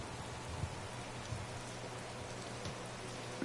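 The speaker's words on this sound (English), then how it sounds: "It's rainy." Rain falls steadily, a soft, even patter with a few heavier drops tapping nearby, fairly quiet and with no voices.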